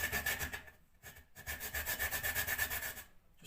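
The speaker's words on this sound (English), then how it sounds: "make sure you grate the nutmeg in the right position" Whole nutmeg is rasped against a kitchen grater in quick, scratchy back-and-forth strokes. One or two brief pauses break the close, fairly quiet scraping.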